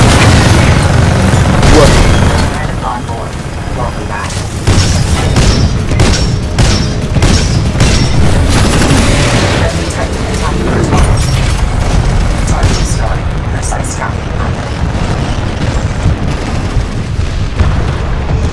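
Titans being destroyed in Titanfall, heavy booming explosions and mechanical crashes layered over continuous battle noise, with someone talking over part of it.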